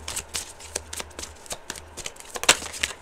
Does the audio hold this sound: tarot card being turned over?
yes